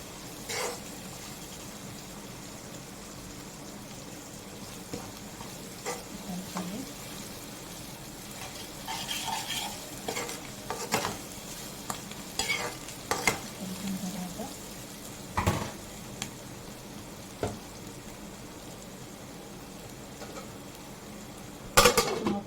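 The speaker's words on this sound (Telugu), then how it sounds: "సరిపడగా సాల్ట్ వేసుకుని ఒకసారి ఇలాగా కలపాలి" Salted chicken gravy mixture stirred in a pan, with soft continuous sizzling under scattered scraping clicks of a spoon against the pan and occasional sharper knocks.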